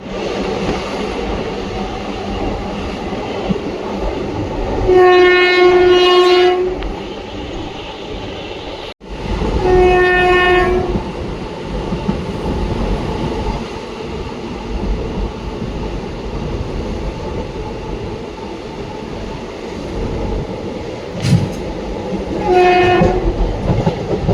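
The Mysore–Talaguppa intercity express arrives at Sagara Jambagaru station with loud rolling rumble and wheel clatter. Its horn sounds in three long, strong blasts spread across the approach.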